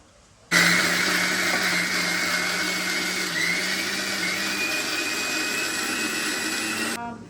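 A kitchen mixer grinder whirs steadily as it grinds coriander, cumin, fenugreek and garam masala for a Mangalore-style chicken curry, starting abruptly after half a second, running loud and continuous for several seconds, then cutting off near the end.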